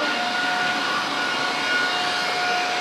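A NaceCare 244NX compact floor scrubber runs its vacuum and turning brushes in a store aisle, giving a steady, loud whining drone with a sustained tonal hum throughout.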